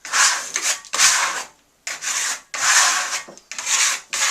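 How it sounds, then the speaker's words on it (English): Steel trowel rubbing Venetian marblestone plaster with soap in tight circular motions, rhythmic scraping strokes repeating about every second with short pauses between, close and fairly loud. "Come back with some soap on your trowel. Always in circular motion, nice and tight."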